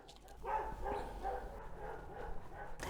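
A dog gives a few short, muffled barks and yips at moderate distance over a low background rumble.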